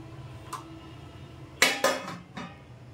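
A utensil knocks against a pot and bowl while scooping cooked coconut rice, a faint tap followed by three close clinks in quick succession, heard alone.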